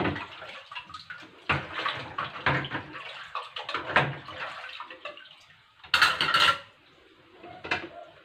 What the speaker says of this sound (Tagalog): sunod nating banlawan ang ating mga chinaware